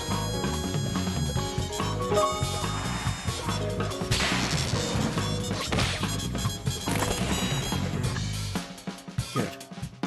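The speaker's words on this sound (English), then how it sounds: "the window was smashed." Glass shattering in the game Layton Brothers: Mystery Room, a loud crash and smash over a dense, continuous game music bed that cuts out near the end.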